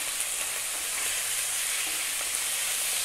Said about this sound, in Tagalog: ilalagay na po natin yung beef strips